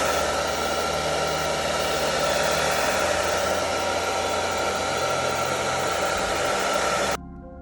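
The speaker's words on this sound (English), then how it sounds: "we will use a hair dryer for masking fluid to" Hair dryer blowing on masking fluid over watercolor paper, a loud steady roaring whoosh running without a break for about seven seconds, then cutting off abruptly, with no talk.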